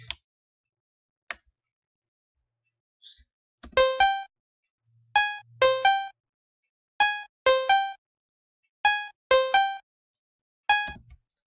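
A wood-preset drum pattern programmed in FL Studio, playing sharp, hollow wooden knocks in short pairs and triplets with gaps between, clear and fairly loud after a few faint clicks at the start.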